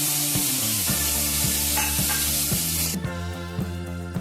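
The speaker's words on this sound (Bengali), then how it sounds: "কড়াইয়ের মধ্যে সর্ষের তেল দিয়ে চিংড়ি মাছগুলোকে ভেজে নিতে হবে।" Shrimp fry in mustard oil in a wok, giving a loud, bright, close sizzle with rhythmic scraping strokes, then the hiss drops sharply and gentler bubbling continues.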